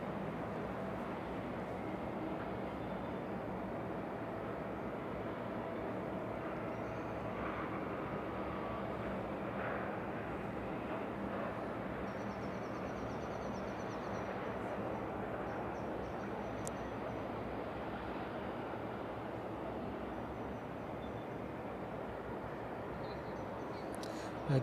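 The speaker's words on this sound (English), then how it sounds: "this is the Ilyushin, making its way into East Midlands from Baku this morning" An Ilyushin Il-76 arriving at East Midlands Airport from Baku, heard as a steady, broad jet roar that holds at an even level the whole way through, with no talk over it.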